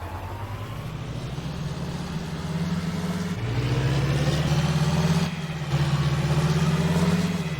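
A tractor engine in Farming Simulator 19 drones steadily up close, its low rumble rising in pitch as it revs, briefly dipping, then holding a loud even note.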